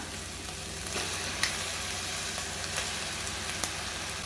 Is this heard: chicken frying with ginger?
yes